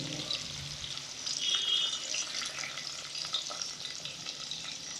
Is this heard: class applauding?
no